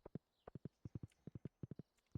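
Horse hooves clip-clop in the Stardew Valley video game, a crisp, even run of close, quick paired hoofbeats, one after another with no voices.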